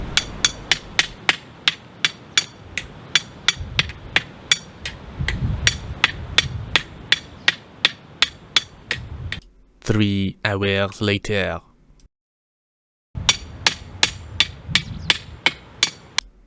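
A very small hammer taps in a steady, rapid series of sharp metallic strikes while installing a camera stand outdoors, with a brief pause midway and a voice speaking once.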